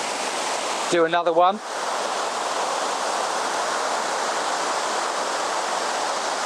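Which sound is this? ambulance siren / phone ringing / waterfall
waterfall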